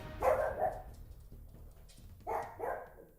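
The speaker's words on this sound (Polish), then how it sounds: "z mopsem, który cały czas mi szczeka" A pug barking indoors at home, two quick barks, a short lull, then two more, fairly close and moderately loud over a low background hum.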